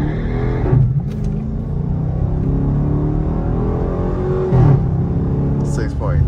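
A Dodge RT launches hard from a standstill on a street run to 60 mph, its engine roaring steadily for several seconds and rising in pitch, loud and close throughout.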